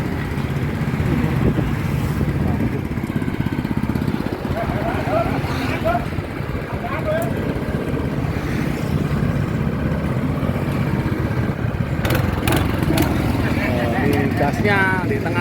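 A walk-behind paddy-field tractor powered by a Honda GX200 engine runs steadily and loudly throughout, its low engine drone continuous with a person talking over it.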